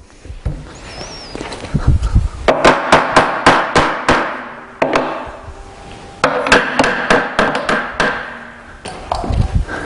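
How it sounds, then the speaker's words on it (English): A Kreg clamp slid and repositioned on a Klamp Table gives a quick series of sharp, close knocks and clacks in bursts, with short pauses between the clusters. "I can move this clamp over."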